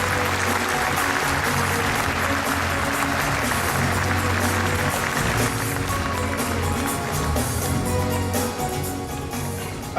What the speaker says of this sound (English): Let's give them all a round of applause and our thanks.